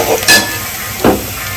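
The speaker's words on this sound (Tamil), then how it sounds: "இது வந்து நாங்கள் கடலெண்ணெயில் தாளிக்கிறோம்." Hot groundnut oil sizzles and crackles as cumin, pepper and coriander fry, with two brief louder bursts of spattering over a steady frying hiss.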